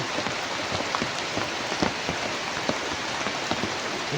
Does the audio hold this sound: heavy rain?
yes